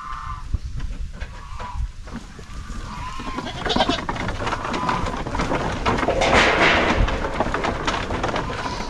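Goats bleat repeatedly over a noisy, rustling background, with the calls overlapping and getting denser toward the end.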